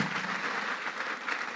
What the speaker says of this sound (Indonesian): Tepuk tangan dulu buat Prof Mahfudnya.